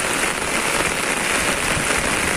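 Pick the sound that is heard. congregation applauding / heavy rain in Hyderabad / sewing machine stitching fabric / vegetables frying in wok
heavy rain in Hyderabad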